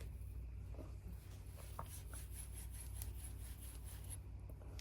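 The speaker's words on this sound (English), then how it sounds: "now you have to use sandpaper to clean it" Steady, quiet rubbing of sandpaper as it scours a copper refrigerant pipe on a chest freezer converted to a keezer and under repair, a soft continuous scratchy hiss with brief louder strokes and no voices.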